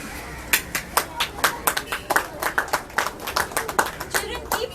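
Children at a wall painting art event in Vasco da Gama, Goa, clapping in a steady stream of sharp, close handclaps, a small group applauding with faint voices behind.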